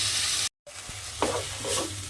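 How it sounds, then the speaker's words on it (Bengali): Tomato, onion and garlic with salt sizzle and fry in oil, a steady close crackling hiss with spoon stirring scrapes and a brief cut in the sound. "এবার এই নুনটা দিয়ে আমি টমেটোটা আর পেঁয়াজ আর রসুনটাকে খুব ভালোভাবে কষিয়ে নেব"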